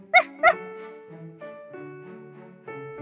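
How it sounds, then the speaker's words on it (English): Two quick high yaps from a small dog, then a soft sustained musical tone with a few gentle notes beneath. "Pup barks."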